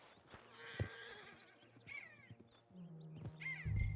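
A horse in the video game Red Dead Redemption 2 gives a few quiet whinnies and snorts over soft background ambience, with one louder, rougher neigh near the end.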